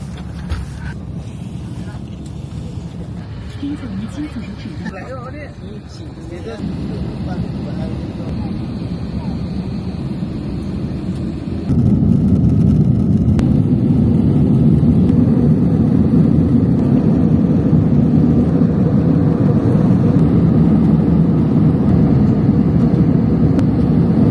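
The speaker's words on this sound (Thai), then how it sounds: "เราเข้ามาในเครื่องบินกันแล้ว" Cabin noise inside a China Eastern Airlines flight from Harbin to Shanghai, a loud, continuous engine roar that steps up noticeably about halfway through and holds steady after.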